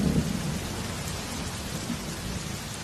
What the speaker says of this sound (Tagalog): Uy, umulan!